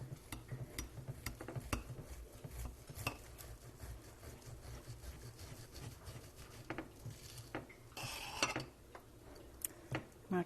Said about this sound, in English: I have a serrated edge knife. And I'm going to slice this.